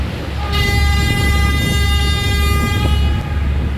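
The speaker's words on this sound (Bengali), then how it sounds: "আওলাদ 10 হর্ন দিয়ে বুঝাই দিল আমারে সাইড দিও" A loud, steady horn from the passenger river launch Prince Awlad 10 blares for about two and a half seconds, deep and droning over a constant engine rumble.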